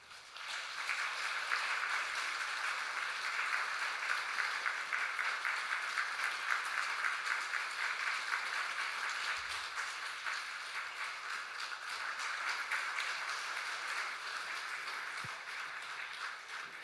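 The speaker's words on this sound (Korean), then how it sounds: "우리 전달할 때 큰 박수로 축하하겠습니다" A church congregation at a Korean Sunday service claps to celebrate a baptism as a certificate is handed over, a long, even stretch of moderately loud, diffuse applause from many people.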